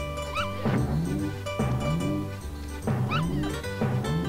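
Cartoonish dog barks and yips from a Super Nintendo-era platform game, repeated in quick bursts over bouncy chiptune music, loud and close.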